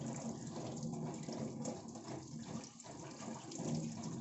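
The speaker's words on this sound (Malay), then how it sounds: "so guna je air air paip" Tap water runs steadily from a kitchen faucet while noodles made with a Noxxa noodle maker are rinsed, a continuous broadband gush with no talk over it.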